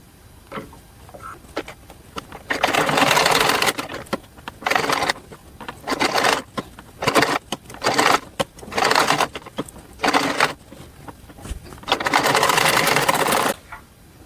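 An electric sewing machine stitches fabric for Laddu Gopal clothes in short, loud bursts of rapid mechanical whirring, starting and stopping repeatedly with quiet gaps between runs, recorded up close.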